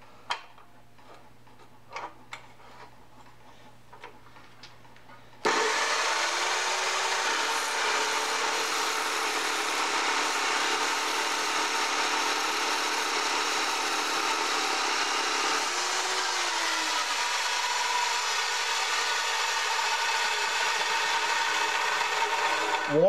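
Jepson dry cut saw cutting a half inch by inch and a half metal bar: a few faint clicks, then the saw starts abruptly into a loud, steady whirring grind that holds evenly for the rest of the clip.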